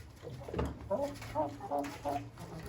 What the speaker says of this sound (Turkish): Sadece ortadaki büyük horoz ötüyor.